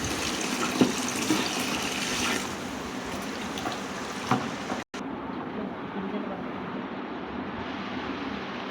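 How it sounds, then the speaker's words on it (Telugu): Water pours steadily into a large batch of buttermilk mix, a continuous rushing splash that softens as the container fills, with a person talking over it. "వాటర్ పోస్తున్నాం ఇప్పుడు."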